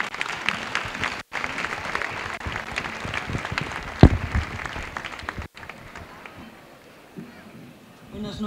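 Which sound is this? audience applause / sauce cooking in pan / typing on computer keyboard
audience applause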